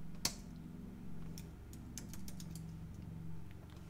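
Commands are typed on a computer keyboard, with irregular close clicks and key taps in short bursts over a low steady hum, one sharp click near the start.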